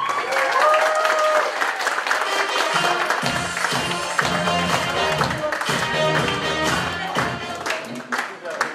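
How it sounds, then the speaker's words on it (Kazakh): Wedding guests break into sustained, dense clapping at a celebration, loud and close, with music and chatter running underneath before the applause thins out near the end. "рахат ай қызыңыздың ұрматына шапалақтар бар ма?"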